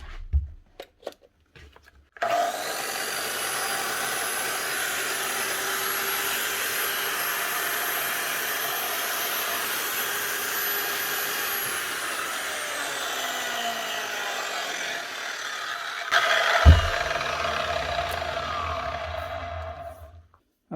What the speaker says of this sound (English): That's her. One Makita GA 9060.